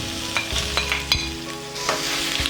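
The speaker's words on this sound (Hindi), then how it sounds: "अब मटन को अच्छे से भूनते हैं जब तक कि इसका कलर चेंज ना हो जाए।" Small mutton cubes frying in a pan for a mutton keema pizza, a close sizzling hiss broken by several scraping stirs and spatula knocks, with no talk.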